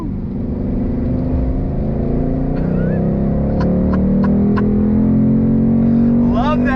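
A 2022 Ford Mustang GT in Eruption Green accelerating hard, its loud engine note climbing steadily over several seconds, with a brief voice exclamation near the end.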